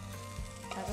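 Chilli frying in a pan in a television kitchen, a steady close sizzle with faint stirring scrapes over one second, no talking.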